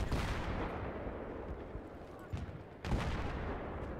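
Gunfire in the Battlefield 3 video game sounds as rapid bursts of shots with booming impacts, loud and continuous, with a sharp burst near the end.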